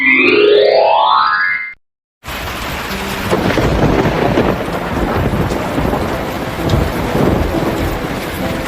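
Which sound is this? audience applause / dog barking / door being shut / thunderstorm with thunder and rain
thunderstorm with thunder and rain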